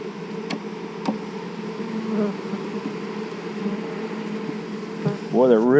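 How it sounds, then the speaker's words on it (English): Honeybees hum loudly and steadily around a hive during queen cell installation, a dense close buzzing drone throughout with a few faint clicks, ending with a louder passing buzz. "Boy, they're really humming."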